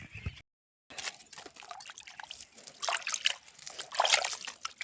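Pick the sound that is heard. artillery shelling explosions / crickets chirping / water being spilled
water being spilled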